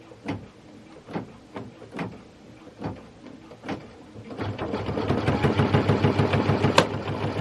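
A sewing machine stitching a satin stitch, starting with a few separate, spaced whirring bursts and then settling into a fast, continuous rhythmic stitching run, close and loud.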